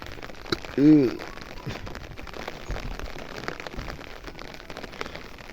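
Rain falling on an umbrella, a steady close patter over the canopy with a brief louder tonal sound early on, while a person talks.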